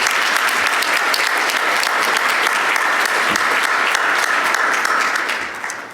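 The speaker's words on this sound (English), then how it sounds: "Please give them a round of applause." A crowd applauds a panel at the close of an afternoon plenary, with dense and loud clapping sustained throughout before it starts to fade at the very end.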